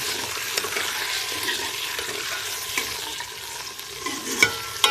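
Chicken stir-fries with browned onions in a pan, a continuous close sizzle with occasional scraping and clinks of stirring, no speech.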